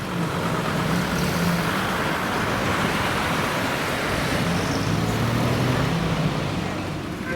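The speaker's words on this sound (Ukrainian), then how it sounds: "все, машины пошли." Steady, loud roar of traffic rushing along the Kyiv–Kharkiv highway near Poltava, a continuous wash of tire and engine noise with a faint voice underneath.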